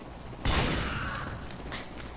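A single loud gunshot from the Ambassador revolver in Team Fortress 2, a sharp close blast whose ringing tail fades over about two seconds, with a faint click near the end.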